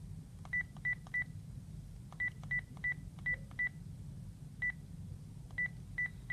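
Bursts of telephone keypad tones as a number is dialed in a video game, about a dozen short beeps in quick clusters of two or three separated by pauses, clear over a low steady background hum.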